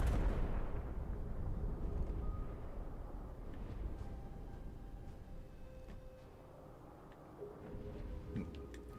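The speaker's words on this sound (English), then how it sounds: "He's just sitting there using main guns only." Battleship main guns firing in World of Warships: Legends, a dense rumbling barrage of heavy booms that is loudest at the start and fades to a steady low roar, with a few sharper reports near the end.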